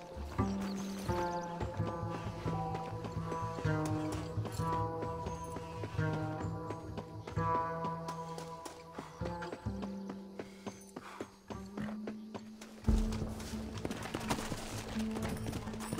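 Horse hooves clip-clopping in the Red Dead Redemption video game, a steady rhythmic trot running throughout under a bed of sustained orchestral music, with a brief louder thump near the end.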